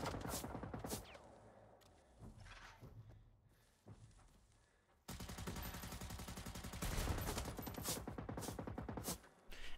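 Incoming machine gunfire in the video game Generation Zero, rapid bursts of shots that are sparse at first, then turn into a dense continuous barrage, loud and near without talking.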